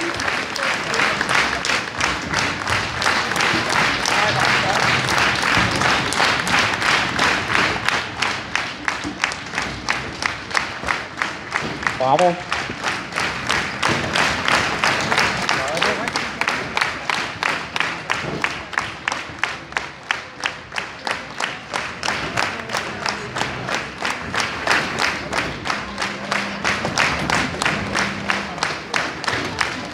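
Sustained applause from a concert audience for music school students, dense steady clapping filling the hall throughout, with a faint shout of approval partway through.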